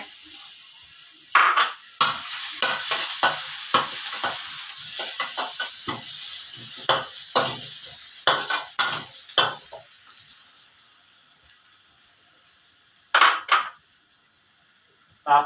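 Pickled mustard greens stir-fried with four eggs in a pan: a steady bright sizzle runs throughout, punctuated by frequent clinks and scrapes of a utensil against the pan, with a few louder knocks near the end.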